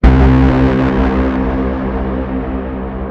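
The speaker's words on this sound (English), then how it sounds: "we are welcomed by a huge brass stab" A huge synth brass stab from a remix hits with a sharp attack, then a dense, loud chord sustains and slowly decays with effects over about three seconds, with no voices.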